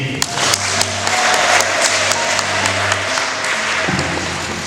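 A church congregation claps in a steady, dense wash of applause, loud and close, with a low hum running underneath before the clapping thins out near the end.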